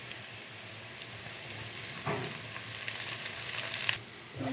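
Sliced tomatoes sizzle in a pan with onion and garlic, a steady close frying hiss that grows busier as they are stirred in and no one speaks.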